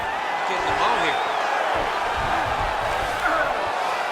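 A UFC video game fight simulation arena crowd roars in a steady, loud wash of cheering while a commentator talks over it throughout.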